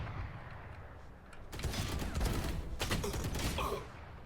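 Gunfire in a first-person shooter game played with a Logitech G Pro X Superlight mouse, a quiet lead-in followed by dense bursts of rapid shots and crackling fire lasting a few seconds, fairly loud.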